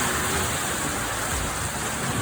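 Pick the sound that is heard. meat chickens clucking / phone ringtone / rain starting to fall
rain starting to fall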